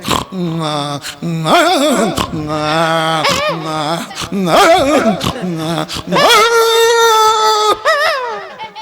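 A voice imitates a dog with a series of loud, close barks, yips and whining howls in quick bursts, ending on a long drawn-out howl, performed during a comic folk bharud show.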